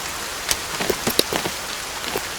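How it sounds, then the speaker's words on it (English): Steady rain in the video game Sons of the Forest patters on a surface, with scattered louder drops tapping irregularly over a constant hiss. "and it was raining"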